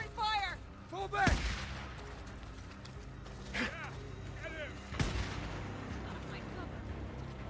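Bursts of enemy gunfire from the Days Gone video game, several loud sharp shots spread across the stretch with echoing tails, over a steady game soundscape and brief animal-like calls.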